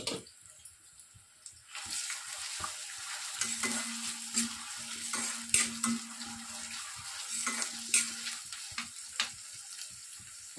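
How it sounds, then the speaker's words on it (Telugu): Three large cut onions dropped into oil for deep frying, for a mushroom dum biryani: a quiet start, then a steady bubbling sizzle with intermittent clinks and scrapes, moderately faint and close. "వీటిని ఇందులోనికి వేసేసి బాగా డీప్ ఫ్రై చేయాలండి."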